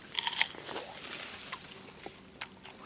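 Close-up crunchy bites and wet chewing of fresh sapota fruit, a few crisp snaps followed by softer munching, with no talking.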